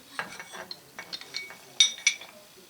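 A metal stop screwed onto a Bridgeport vise casting, heard as a short series of faint, close ratcheting clicks and metallic scrapes in irregular bursts over a quiet background.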